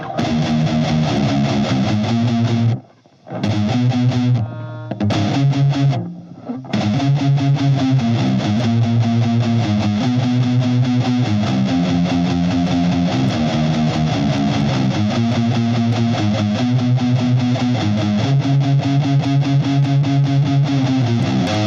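A distorted electric guitar plays a dense, chugging riff through a speaker cabinet miked with an SM57 and an AKG, loud and continuous with a few brief gaps where the playing cuts out.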